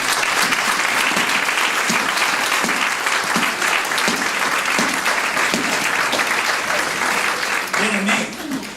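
A church congregation applauds loudly and continuously at a service, the dense clapping filling the room with a few voices mixed into the crowd.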